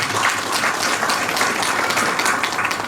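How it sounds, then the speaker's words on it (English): Audience applause at a speech event: a steady wash of many hands clapping, even and continuous, moderately loud with no voices over it. "So I'm going to give a round of applause for that."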